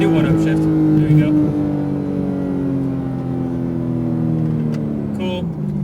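A Porsche 991 GT3 RS engine on a race track, a loud, close drone that dips in pitch through an upshift, with an instructor's voice talking over it at times.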